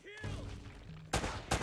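Gunfire from the Uncharted video game comes in two sharp, loud bursts close together, after a brief voice and some fading tonal game sounds.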